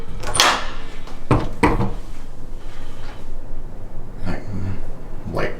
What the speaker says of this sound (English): so I can open the closet door